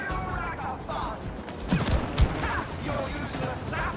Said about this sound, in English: I shoot. Oh, I can shoot them.